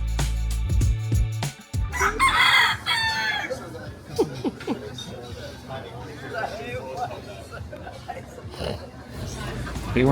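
A woman imitates chickens with clucks and a crowing cock-a-doodle-doo, loud and close, followed by laughter and chatter from other people.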